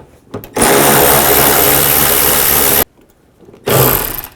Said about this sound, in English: There's 6 nuts that you need to remove from underneath here. Use a 10mm socket.